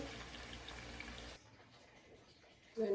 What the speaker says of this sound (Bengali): চলেন আমরা একটু পাটাটা ধুই